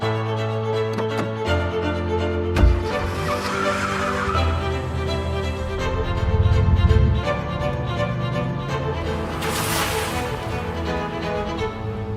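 Bodyguard cars in Malaysia driving defensive maneuvers, tires skidding and engines revving in a steady, loud rush that swells and fades, with a sharp squeal burst partway through and no talking.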